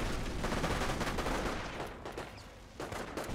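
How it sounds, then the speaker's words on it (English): Artillery barrage in Company of Heroes, a rapid rumbling series of distant impacts and crackling fire, dense and continuous at moderate level, easing slightly before another burst near the end. "Not sure what type of artillery barrage that is."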